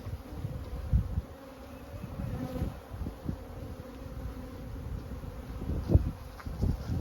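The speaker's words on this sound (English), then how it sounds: "I'm gonna carefully move these bees over without disturbing them" Honey bees hum in a soft, continuous drone nearby at a hive, with occasional louder buzzes passing close and faint rustling underneath.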